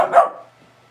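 One sharp, loud dog bark close by, quickly fading into quiet.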